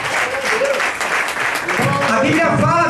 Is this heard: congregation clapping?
yes